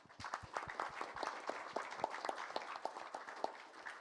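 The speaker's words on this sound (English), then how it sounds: "So huge round of applause for those contributors." A small audience at a COOL Days 2025 live stream gives a modest round of applause for project contributors, individual claps clearly separated and fairly faint, in an irregular patter.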